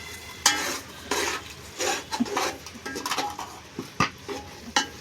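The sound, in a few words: stirring and frying masala in oil for mutton biryani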